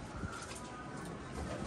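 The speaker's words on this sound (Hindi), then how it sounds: "ये देखें दोस्तों एक कबूतर इधर काफ़ी टाइम से मेरे पास पड़ा होगा" A female pigeon in a pigeon keeper's coop gives soft, low cooing. The calls come in a continuous murmur that is faint and close, with quiet background noise.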